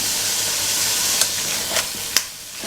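Sliced green peppers and onions, cut julienne or into large rings, sizzle and fry in a hot pan for a fish dish, a steady close crackle with a few sharper pops and no voices.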